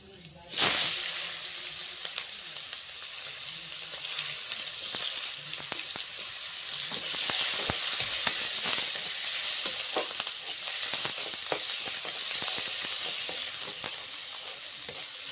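Chopped onions fry lightly with cumin and nigella seeds, opening with a sudden loud hiss as they hit the oil, then settling into a continuous sizzle broken by frequent stirring scrapes and clicks.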